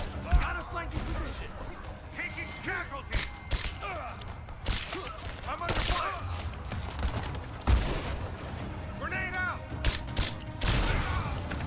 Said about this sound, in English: Taking casualties. I'm under fire.